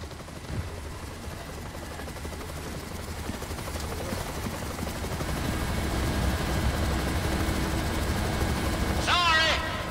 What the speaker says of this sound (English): One combat chopper compliments the Hunnigan